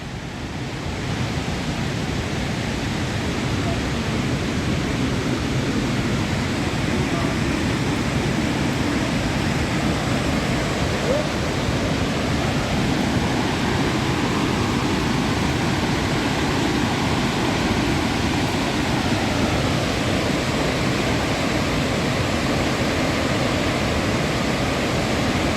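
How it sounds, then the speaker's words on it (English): Victoria Falls main falls, a 93-metre drop into a gorge, giving a loud, unbroken roar that fills the whole stretch with no voices. "And now we are at the main falls, which is 93 meters."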